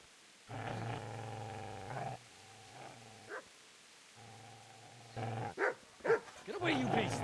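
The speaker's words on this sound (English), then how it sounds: "Get away, you mutt!" Dog in the Kingdom Come: Deliverance game, sustained low growls followed by several sharp barks, close and fairly loud, with a voice speaking in between.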